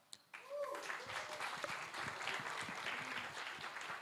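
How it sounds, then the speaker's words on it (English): Audience applause at a fintech challenge semi-final event, a sustained crowd of clapping hands that swells after a brief pause and holds steady throughout, with faint voices mixed in. "Let's put our hands together for Pay Seeker"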